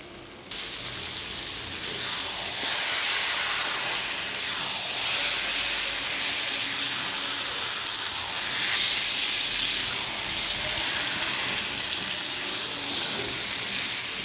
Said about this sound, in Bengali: এবার এর মধ্যে দিয়ে দেবো মাংস